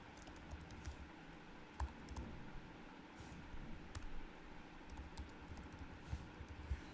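Quiet computer keyboard typing while CSS code is entered, with soft irregular key clicks and taps scattered over a low background hiss and no speech.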